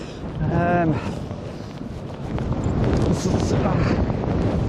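Gusty storm wind from Storm Darragh buffets the seaside at Skegness, loud rushing blasts battering the microphone, with a voice briefly heard near the start.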